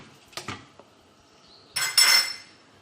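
A metal cooking pot is set down onto a support on the stove for chicken majboos, giving a couple of close, sharp clanks and a rattling scrape, with a soft knock before them.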